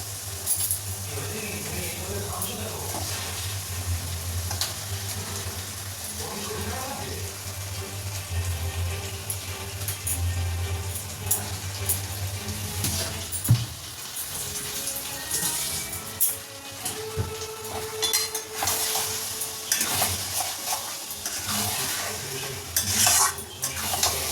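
Chicken pieces frying and being stirred in a spiced masala in a pan, with a continuous sizzle and frequent scraping of a spoon against the pan. A low hum underlies the first half and there are occasional clinks.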